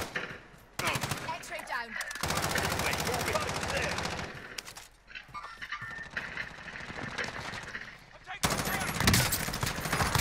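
Rapid automatic gunfire rattles in Call of Duty, bursts of machine-gun fire in dense volleys broken by short pauses, loud and close, with a player talking over the shooting.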